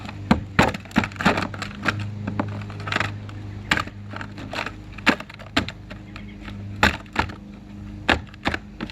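Frozen cubes of steamable butternut squash are chopped and broken apart in a pan, with a run of sharp, irregular knocks and cracks coming close and loud, some in quick bursts, with no talking.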